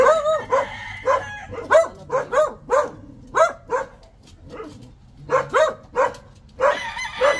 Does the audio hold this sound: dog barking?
yes